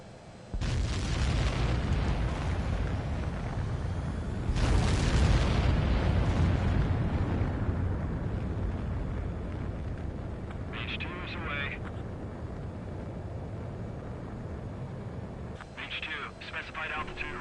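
A fighter jet roars through its takeoff in Ace Combat 7, a loud sustained engine rush swelling in bursts and then holding steady, with a radio voice speaking over it.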